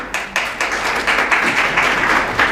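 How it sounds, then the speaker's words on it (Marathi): Audience applause from a crowd at a Marathi motivational talk, a steady wash of many hands clapping close and fairly loud, with a few sharper individual claps on top. "तुम्हाला जर खरंच टाळ्या वाजवायच्या असल्या तर इमानदारीनं वाजवा."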